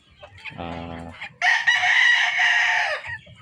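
A Boston gamefowl crossbreed rooster, three-quarters Boston and one-quarter Tornado, gives a brief low cluck, then a loud, close, drawn-out crow lasting about two seconds.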